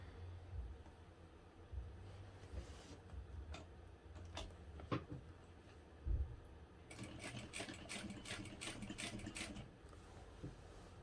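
A sewing machine top stitches a vinyl hobo bag with an eighth-inch seam allowance, first in short bursts of stitching and then in a steadier, faster run near the end. It sounds close and moderately loud, with no talking.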